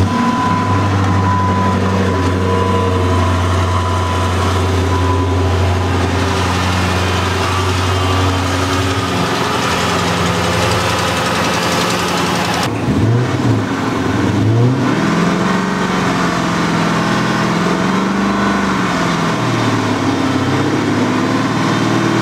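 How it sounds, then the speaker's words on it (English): A Dodge Charger's Hemi V8, noted for lifter tick, runs steadily at a close, loud idle, then shifts character partway through as the engine note changes and warms up, with no talk. "Our last step is to start the engine and let it warm up."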